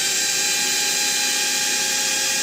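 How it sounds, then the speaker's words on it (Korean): A Makita impact driver runs steadily at its lowest speed setting, giving a loud, continuous, smooth whine with no break or change in pitch, heard alone. "마키다는 1단에서도 뭔가 억지스러운 소리 없이 그냥 부드럽게 돌아가는 거 같아요"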